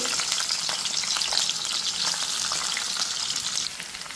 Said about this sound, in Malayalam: ചട്ടിയിൽ എണ്ണ ഒഴിച്ച് ചൂടായപ്പം രണ്ട് ചെറിയ ഉള്ളി അങ്ങ് അരിഞ്ഞ് ഇട്ടേച്ചു